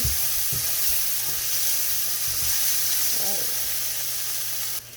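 Scallion and onion sizzle steadily in a hot pan while cooking a seafood pasta sauce base, a continuous close frying hiss with a few soft stirring knocks, cutting off abruptly at the end.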